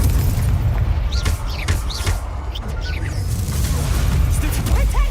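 Fire spell impacts from Hogwarts Legacy combat land as a string of booming bursts over a dense, rumbling game soundscape, with whooshing magical effects and short sharp flares scattered across the fight.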